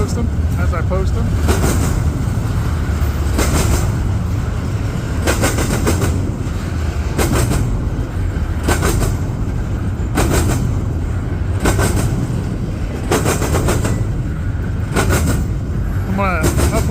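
A freight train carrying refrigerated intermodal cars rolls past at close range, with a steady heavy rumble and rhythmic clacking of wheels over rail joints repeating throughout.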